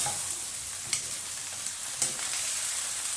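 Adobong sitaw, string beans in adobo sauce, stirred in a frying pan, with a steady close sizzle and a few sharp scrapes of the spoon against the pan.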